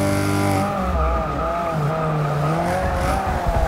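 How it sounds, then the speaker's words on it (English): A Chevrolet Camaro with a V6 engine in the Forza 6 racing game revs steadily, its pitch rising and falling in sweeping waves as it is driven hard, with a hint of tire squeal. It is loud and close, with no talking. "I can hear that Camaro back there. It's got like it's got the V6 in it."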